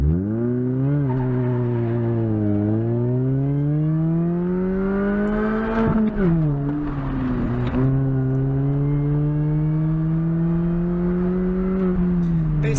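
A car's engine drones loud and steady through an autocross lap at an SCCA Iowa event, its pitch climbing and dipping as the driver accelerates and lifts, with brief tire and shifting disturbances midway.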